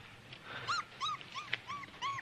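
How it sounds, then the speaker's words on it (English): A wolf pup whimpers in a series of short, rising high-pitched cries, about half a dozen in a row with soft growly undertones, close and fairly quiet. "Laura, the pup is fun now, but when it grows up, it'll be what it is, a wolf."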